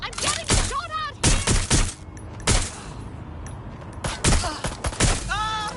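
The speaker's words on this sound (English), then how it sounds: "Take cover! Stop! I'm getting shot at!" Gunfire in Watch Dogs: Legion comes in sharp bursts and single shots, loud and close, separated by short gaps, with a voice shouting in between.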